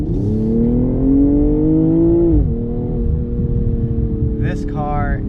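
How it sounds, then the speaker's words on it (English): A nearby 2022 BMW M240i xDrive engine revs up loudly, then drops back to a throaty idle, with a short burst of crackling exhaust pops and burbles at the end. "there's a lot of burbles and pops as you can hear from the back"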